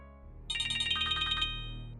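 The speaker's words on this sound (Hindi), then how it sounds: "तुम्हारा फोन बज रहा है, go ahead, pick it up." Mobile phone ringtone plays a rapid run of bright electronic tones for about a second at moderate loudness, over a faint low background hum with no speech.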